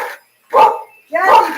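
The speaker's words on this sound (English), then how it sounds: "Barking because she hears me." A small puppy barks twice indoors in a kitchen, two short, sharp, high yips separated by a brief pause, close and clear.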